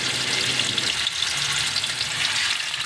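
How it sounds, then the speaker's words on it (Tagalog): Steady, crackling sizzle of sliced tofu frying in hot oil, loud and close, with a dense hiss that holds evenly throughout and no voices. "Magpapainit tayo ng mantika para magsimula na tayong iprito ang ating mga hiniwang tokwa."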